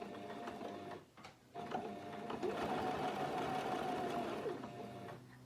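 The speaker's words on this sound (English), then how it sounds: "going to sew a rough design of a leaf on this piece of fabric" Sewing machine stitching a rough leaf shape onto a piece of fabric, a steady close whirring run with brief pauses between bursts, no talking.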